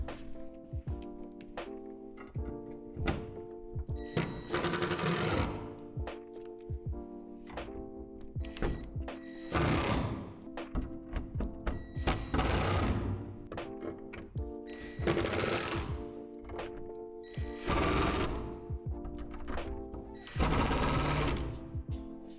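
Self-tapping screws are driven into the support tubes of a Lifetime horizontal storage shed with a power driver, in repeated bursts of mechanical whirring a few seconds apart, fairly close and steady.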